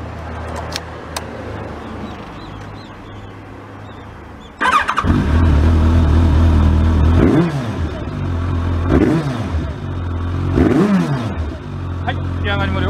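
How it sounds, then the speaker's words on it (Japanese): A Kawasaki ZRX1200 DAEG with a BEET full titanium exhaust sits quiet, then fires up abruptly and settles into a loud, lumpy idle broken by three sharp throttle blips that rise and fall. "ではエンジンの方を始動していきます。"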